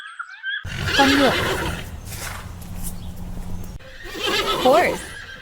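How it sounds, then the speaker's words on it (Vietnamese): A horse gives two loud, close whinnies with shaky, wavering pitch, separated by a brief pause over rough background noise, and a voice speaks just before the first call. "Con ngựa"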